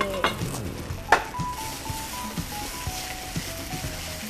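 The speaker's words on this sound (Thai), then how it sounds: "แต่เราก็ลงเส้นกันเลยนะคะ กระทะร้อน" Noodles hiss and sizzle in a hot wok, with scraping and stirring clatter of a utensil against the pan throughout.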